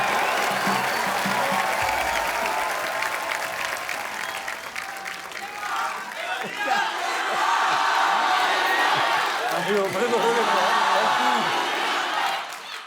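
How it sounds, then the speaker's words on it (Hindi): Studio audience at a Hindi comedy talk show applauds and cheers for visiting world champions, a loud sustained roar of clapping with whoops rising midway and continuing strongly to the end. "जोरदार तालियां हमारे चैंपियंस के लिए।"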